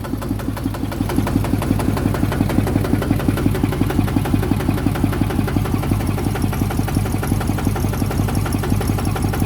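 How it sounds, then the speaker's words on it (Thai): A single-cylinder tractor engine idles steadily, its low, rapid chugging pulses close and continuous throughout, with no voices. "เนี่ยรถไถก็ไม่กินน้ำมันเท่าไหร่นะ แค่สูบเดียวเอง"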